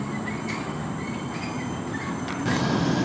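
A city train in Kuala Lumpur rumbles steadily along the rails with a continuous low roar. Faint squeals and clanks sit on top, and the noise grows a little louder near the end. Nobody speaks.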